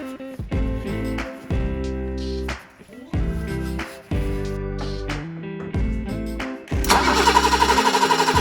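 A 1983 BMW 7-Series E23 cranking over repeatedly in a shop, with several loud grinding starter attempts broken by brief pauses before the engine catches and settles into a rough, pulsing idle, close and loud.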